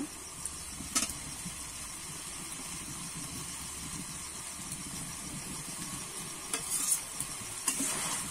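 Fried potatoes tipped into a pan of cooking drumstick greens and stirred, a soft continuous sizzle with a few sharp clatters and scrapes of the spatula, quiet and close.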